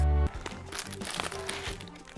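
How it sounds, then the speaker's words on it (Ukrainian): A plastic bag holding Ukrainian cereal flakes is opened and handled, giving a steady stretch of crinkling and rustling with small crunches. "Поїхали тепер робити розпаківку всіма відомими нашими українськими хлоп'ями, пластівцями."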